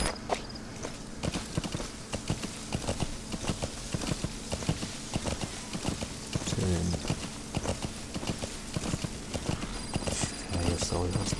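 Horse hooves clip-clop at a steady walking pace in the video game Metal Gear Solid V, continuous rhythmic hoofbeats close by, with someone speaking over part of it.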